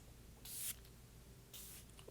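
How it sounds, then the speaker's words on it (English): Two short, fine hisses of perfume mist sprayed directly onto skin, close and quiet, separated by about a second of near silence. "I'm spraying directly on the skin"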